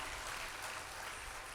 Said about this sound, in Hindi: ताली बजाए तो बच्चे के लिए।